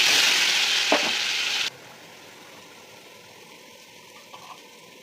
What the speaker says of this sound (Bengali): এবার কড়াই তেল গরম হয়ে গেছে, এই যে বেটে রাখা মানকচুটা দিয়ে দেবো।